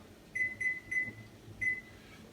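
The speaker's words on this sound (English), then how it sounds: "start the kitchen timer" A kitchen timer chirps while beer wort boils on a home brewing setup: four short, clear electronic beeps, three in quick succession and one after a brief pause, faint against a low background hiss.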